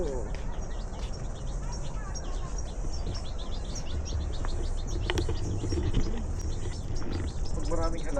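Birds chirp and tweet among the plants of a New Zealand orchard, a steady stream of small calls with a few soft coos, set over constant outdoor background noise.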